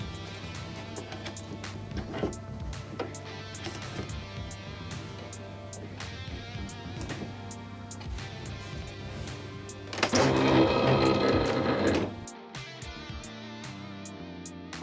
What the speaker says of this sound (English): Now we have loaded this mat on our machine here with this black sensor